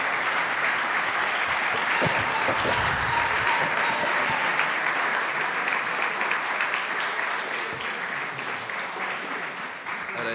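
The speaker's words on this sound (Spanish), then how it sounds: "les pido un aplauso para los autores porque efectivamente se lo merecen" An audience at a book presentation applauds the authors of a book about a navy submarine, steady dense clapping filling the room for ten seconds without a break.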